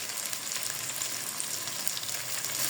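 Onions frying and sizzling in a pan while browning for a fish curry, giving a steady, loud hiss and crackle that carries on unbroken throughout, with no talking over it.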